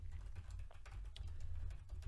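Typing on a computer keyboard into a text editor, a quick, continuous patter of soft key clicks heard close and quiet over a low background hum.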